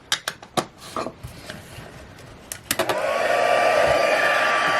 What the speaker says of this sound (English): I'm going to go ahead and heat these images up, and I'm going to use a heat tool for that